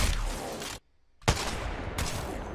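Peacekeeper shotgun blasts in the video game Apex Legends, loud broadband shots with one clear gap between them, close and punchy, with no talking over them.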